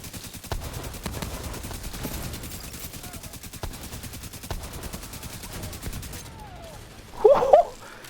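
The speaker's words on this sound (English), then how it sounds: "I love this LMG, man. I just wish it can hold more rounds." An LMG in The Division 2 fires long rapid bursts, a fast even stream of shots with a steady rhythm that continues for several seconds. A short louder burst of other game noise follows at the end.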